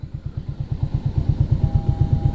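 Small 70cc motorcycle engine on a mountain road, loud and close, with a rapid rhythmic single-cylinder putter that builds slightly as the throttle rises.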